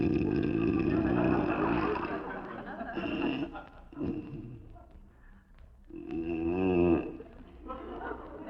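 A man snores loudly in an old radio comedy, with long rasping snores and wheezing breaths, while a voice talks in between.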